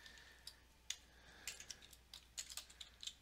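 Typing a file name on a computer keyboard while archiving a Mixcraft Studio project: scattered quick key clicks in short bursts, close and fairly quiet, with no one speaking.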